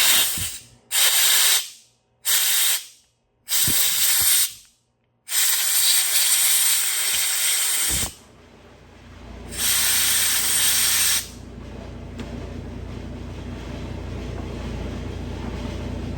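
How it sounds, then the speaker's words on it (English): Compressed air blasting gunk and dirt out of a Porsche window switch: a series of loud, hissing bursts of varying length separated by short silences, then a quieter background hiss. "I'll blast it out with compressed air to clean out the gunk and dirt."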